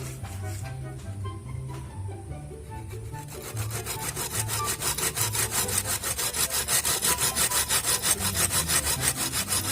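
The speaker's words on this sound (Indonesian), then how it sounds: "langsung kita gergaji" A hand saw rasps through wood while building a handwashing station, with some tapping at first and then steady, rhythmic back-and-forth strokes growing louder and faster.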